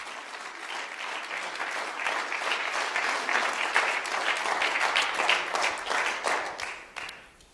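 A church congregation claps loudly and steadily in a sustained wave of applause that swells through the middle and fades at the end, with no voices over it.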